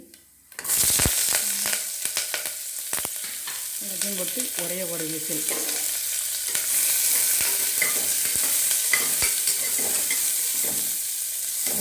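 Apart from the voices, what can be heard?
onions sautéing in oil in a pressure cooker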